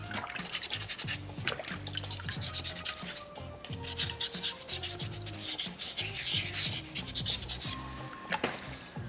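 Sandpaper rubs steadily over a small soapstone polar bear carving, making a close, continuous dry scraping with a quick back-and-forth rhythm and no talking.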